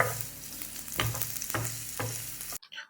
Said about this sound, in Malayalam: ചെറിയ ഉള്ളി നല്ല ബ്രൗൺ കളർ ഗോൾഡൻ കളറാകുന്നത് വരെ ഒന്ന് വഴറ്റിയെടുക്കണം